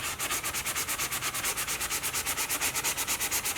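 Rhythmic back-and-forth strokes of sandpaper sanding dried filler on a leather repair, steady and close, each pass a regular scratchy rasp with no talk.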